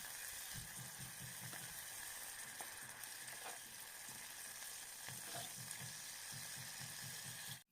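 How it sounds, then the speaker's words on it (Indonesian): Small anchovies fry in a pan partway to half-cooked, a steady close sizzle with faint rhythmic stirring scrapes running throughout, no voices. "kita goreng terinya sampai setengah matang aja dulu"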